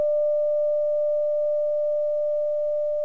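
A Tibetan full moon singing bowl rings with a single pure, steady tone that sustains evenly and slowly fades, with faint low rumble beneath.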